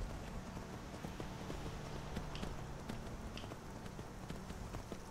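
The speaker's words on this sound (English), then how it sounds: "This is a lot more effective walking around on a horse." Horse hooves clip-clop at a steady walking pace in the Skyrim video game, soft and fairly distant under a continuous wash of ambient noise, with no talking.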